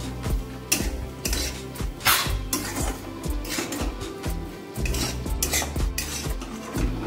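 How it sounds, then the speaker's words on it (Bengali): A utensil scrapes and knocks against a pan while red amaranth greens, fried with sprinkled roasted poppy seeds, are stirred together, giving repeated clattering strokes in an uneven rhythm, close and fairly loud, with no one speaking. "এবার সব একসাথে নাড়াচাড়া করে মিশিয়ে দেব।"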